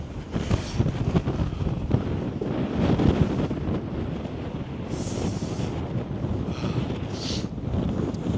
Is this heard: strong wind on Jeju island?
yes